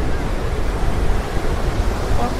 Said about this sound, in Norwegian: Det er litt bølger her